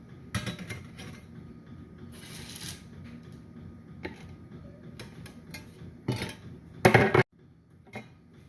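Freshly baked apple cider cookies for whoopie pies are set onto a metal cooling rack in a home kitchen, giving a run of light clinks and clattery taps, with a louder sharp rattle near the end and no talking.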